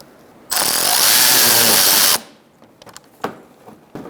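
A power tool runs in one loud, steady burst of about a second and a half, driving a screw into the bumper of a 2000-2007 Ford Taurus, followed by a few soft clicks and taps of handling.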